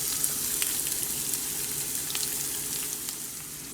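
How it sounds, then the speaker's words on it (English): Cumin, ginger garlic paste and chopped onions fry in hot oil for a Sri Lankan lentil dhal curry. A soft, continuous sizzle and crackle runs the whole time, with small pops scattered through it. "I'm adding half a tablespoon of cumin, 1 tablespoon of ginger garlic paste, and 1 tablespoon of chopped onions."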